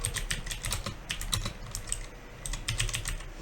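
Fast touch typing on a computer keyboard, a quick irregular run of crisp key clicks with a few brief pauses, close and fairly quiet, with no one speaking.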